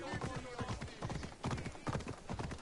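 Horse hooves clip-clop at a steady galloping rhythm in Assassin's Creed Odyssey, close and continuous, mixed with game sounds and someone talking over them.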